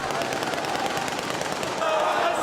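Gunfire crackles through a dense street protest crowd as coffins are carried past amid chanting; bursts of shots blend into a continuous roar of voices and commotion, loud and sustained throughout.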